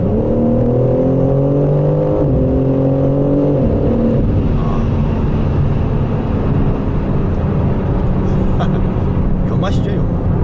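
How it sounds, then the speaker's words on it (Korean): Exhaust of a facelifted BMW M4 convertible echoing inside a tunnel, a loud sustained engine drone with pitch stepping through gear changes before settling into a steady roar, with someone talking over it. "터널 안의 사운드 자체가 남들에게 피해를 주지 않은 아주 고급스러운 배기 음색을 내주는 게 이 녀석의 큰 장점이거든요"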